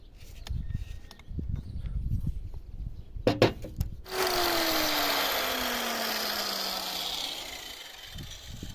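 An angle grinder's 6 mm disc bites into a knife sharpener's hinge mechanism after some handling knocks, cutting a groove for a bushing steadily with a loud broadband whine that slowly drops in pitch.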